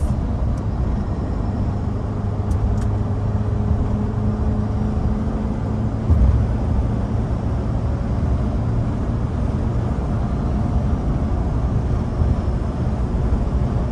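A 1996 Mitsubishi Pajero Jr heard from inside the cabin on a drive, its engine a steady, loud low drone with road rumble, holding a broad even tone as it settles into fifth gear.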